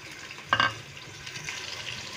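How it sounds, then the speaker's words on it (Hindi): Sliced onions go into a cup of hot oil for a mixed vegetable dish, setting off a sudden loud burst of sizzle that settles into a steady close hiss. "हम प्याज को लाइट ब्राउन करेंगे।"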